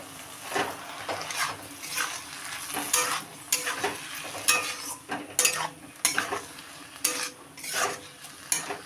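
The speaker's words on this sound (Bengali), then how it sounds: "এটা আমি খুব ভালো করে নাড়াচাড়া করে আমি ঢাকা দিয়ে দেবো।" Bottle gourd peel with peanut and poppy seed paste is stirred in a pan with water over a low sizzle. A utensil makes frequent, uneven scraping and clinking strokes against the metal, close and fairly loud, with no voices.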